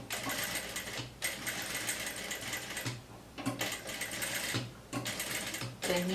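A domestic sewing machine stitches a bust dart in fabric in three quick, close bursts of rapid rattling, separated by brief pauses.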